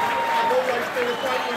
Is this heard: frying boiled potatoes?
no